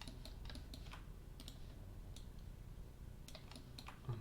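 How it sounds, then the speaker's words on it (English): Computer keys tapped in short, quick bursts during 3D modelling work on an Audi R8 Spyder, with scattered clicks spread across a few seconds over a low background hum, no voices. "Holding V on the keyboard, like so."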